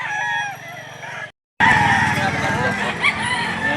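Chickens cluck and a rooster crows amid a noisy crowd at the Lipa City livestock auction market in Batangas, with a brief silent gap before the busy farm-animal chatter resumes.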